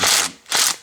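Two short ratcheting bursts from a wrench backing out an 8 millimeter bolt on the turbo oil tube of a Ford 6.0 diesel, close and crisp with a brief pause between them.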